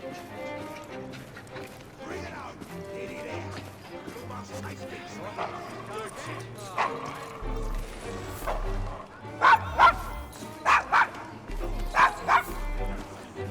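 A dog in an Assassin's Creed Syndicate scene barks in several loud, sharp bursts and whimpers, set over game music and ambient clatter while people talk.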